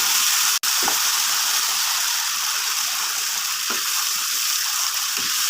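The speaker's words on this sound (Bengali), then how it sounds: "এবারে অল্প অল্প করে জল দিয়ে মশলাটা আবার একটু কষিয়ে নিচ্ছি।" Tomato and spice paste sizzles hard in a pan as water is added little by little for a fish curry, a loud, steady hiss broken by one brief clack and a few soft stirring scrapes.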